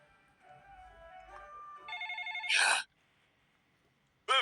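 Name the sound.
telephone ringing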